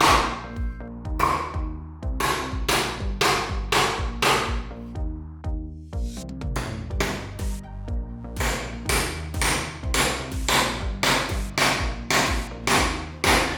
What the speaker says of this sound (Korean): 스탠리 망치도 이질감 없이 무난하게 못질이 가능했지만